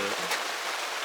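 Heavy rain drums steadily on a camping tent during a downpour, a dense continuous hiss close overhead with a brief murmur of voice at the start.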